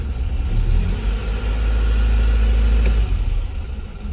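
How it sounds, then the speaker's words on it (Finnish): FSO Polonez Special car engine idling roughly, a loud, deep, uneven rumble running steadily and close, with a slight dip near the end. "vaikka moottori kyllä piti aika rumaa ääntä"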